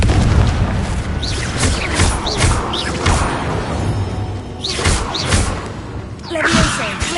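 Heavy booming blasts from the Confringo fire spell in Hogwarts Legacy, several loud explosions with whooshing tails over continuous combat noise, close and forceful.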